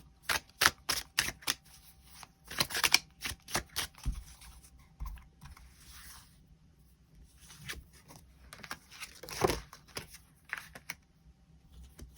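Tarot cards are shuffled and drawn in scattered clusters of soft, close papery flicks and taps, with quieter stretches between bursts of handling.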